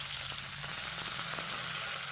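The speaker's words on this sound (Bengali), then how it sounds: "এখন সুন্দর করে আমি টান টান করে মাছটাকে ভেজে নিলাম।" Tilapia pieces frying in hot oil in a pan, a steady close sizzle and crackle with no pause.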